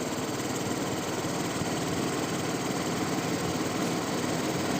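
A Hero Destini 125 scooter engine idles steadily while its RPM screw is adjusted, a continuous, fairly loud buzzing drone with no noticeable change in pace or break.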